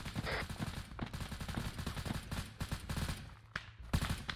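Rapid bursts of automatic gunfire in the military shooter Arma 3, a Navy SEAL palace assault, with dense overlapping shots and cracks crowding the whole stretch at close range.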